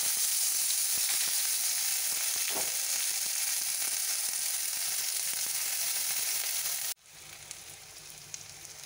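Sliced onions frying in hot oil in a pan for pabda fish curry, a loud steady crackling sizzle with occasional stirring knocks, cut off abruptly near the end to a quieter hiss.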